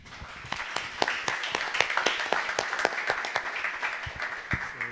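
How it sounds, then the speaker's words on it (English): An audience at a mobility workshop applauds its panelists, with distinct claps from a moderate crowd forming a steady patter for several seconds at medium distance. "So a big applause to them."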